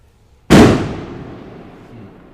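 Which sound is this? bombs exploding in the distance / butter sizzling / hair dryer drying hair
bombs exploding in the distance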